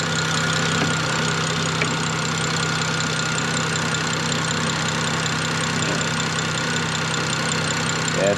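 A BMW E90 with the N54 twin-turbo engine idles steadily and close by, a constant low hum with a faint mechanical ticking underneath, no voices.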